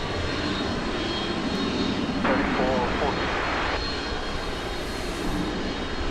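McDonnell Douglas MD-11 jet at DFW airport, a steady broad engine roar held throughout at moderate distance, with a brief voice-like burst midway.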